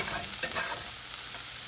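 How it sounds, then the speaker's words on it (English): Chopped onions and jalapenos sauteing in a hot pan give a steady, close hiss of sizzling, with a few soft stirring scrapes and no voices. "mainly just the onions, saute for a little bit."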